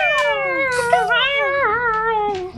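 A voice imitates dying baby birds with a series of high, wavering, strained cries that slide up and down in pitch, sounding more like a yowling cat.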